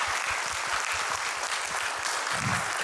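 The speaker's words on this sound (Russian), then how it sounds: "Давайте, да, похлопаем." An audience claps steadily throughout, dense even applause from a seated crowd at a film screening event, with no voices standing out.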